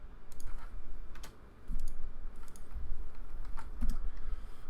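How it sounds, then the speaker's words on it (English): Typing on a computer keyboard at a desk while coding a website: a steady, fairly quiet patter of key clicks with a brief pause, heard close and without talk. "typing on this desk is not something I'm used to"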